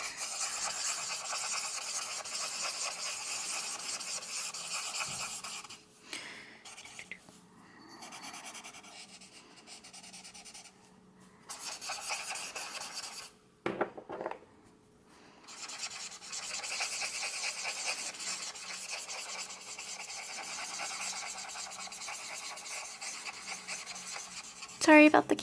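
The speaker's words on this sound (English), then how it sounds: "Some marker ASMR in here." Alcohol markers colour a galaxy background on paper in a long, steady, close scratchy rubbing, with a brief pause partway through and a few small knocks near the end.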